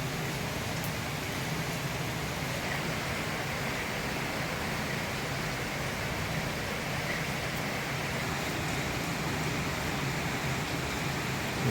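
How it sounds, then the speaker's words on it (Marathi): Heavy rain pours steadily with strong wind during a storm in Solapur district, a dense, unbroken hiss that stays loud and even throughout with no voices. "वाऱ्यासोबत पाऊस पडत आहे जोरात"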